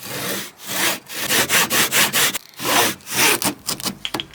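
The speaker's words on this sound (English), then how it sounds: "So I smooth it out with a sander" A power sander works over a glued scrap-wood patch on a vintage dresser drawer, giving a close, loud run of rhythmic rasping strokes with short pauses between passes.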